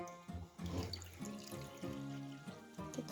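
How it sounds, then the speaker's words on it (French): Lukewarm water running steadily from a kitchen tap into a measuring container for baguette dough, a close continuous splashing stream with a rising filling tone and no talking. "je vais aller prendre mon eau tiède au robinet"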